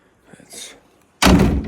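Excavator cab door swinging shut with a single loud, close slam and brief rattle after a quiet stretch with faint movement.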